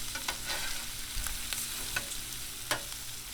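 Ham fries on a 22-inch Blackstone griddle with a steady, fairly quiet hiss and crackle, broken by a few sharp pops and light scrapes of a spatula. No one speaks.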